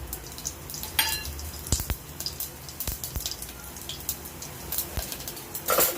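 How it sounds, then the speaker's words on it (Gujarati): Bay leaf, cloves, cinnamon and cumin seeds hit hot ghee, crackling and spitting in sharp scattered pops over a soft, steady sizzle, with a few louder bursts as the spices are stirred. "હવે જો ઘી છે એ ગરમ થઈ ગયું તેમાં આપણે તમાલપત્ર લવિંગ તજ અને જીરું તે આપણે એમાં નાખવાનું છે"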